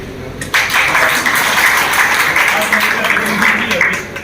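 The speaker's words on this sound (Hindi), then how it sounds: "तालियों से" Applause from a gathered audience welcomes a newly appointed chairman, a sustained burst of clapping that starts abruptly and holds steady, with voices faintly beneath it.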